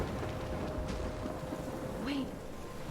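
Steady rain and storm noise from a thunderstorm in the video game Life is Strange, a broad constant wash with a distant low rumble, plus a brief whistling gust near the end.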